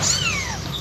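A pregnant pet cat in labor lets out a single short, close meow with a sliding, falling pitch, heard alone.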